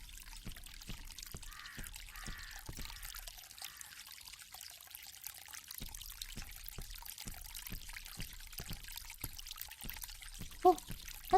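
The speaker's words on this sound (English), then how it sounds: "This fountain makes a very relaxing sound." Water trickling from a fountain in the mystery game Agatha Christie: The ABC Murders, a soft steady dribble under sparse, regular clicking sounds, with a few faint bird-like calls near the end.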